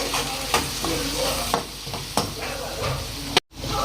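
A spatula stirs restaurant-style chana masala in a frying pan, with a continuous sizzle under repeated scraping strokes close by and a brief cutoff near the end.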